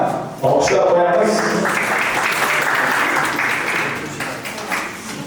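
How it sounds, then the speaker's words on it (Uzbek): Audience applause at a startup hackathon pitch event: a room full of people clapping loudly, starting abruptly and holding steady before tapering off, with a voice speaking over it. "Marhamat, olqishlar qo'yamiz."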